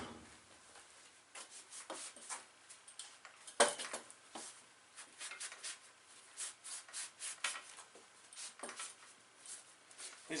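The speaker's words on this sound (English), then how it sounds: "I'm going to take the rest of the paint that's on it off." Paint is scraped off a 1989 Dyno Comp BMX frame in faint, irregular rasping strokes, close and quiet, with a sharp click partway through and no speech.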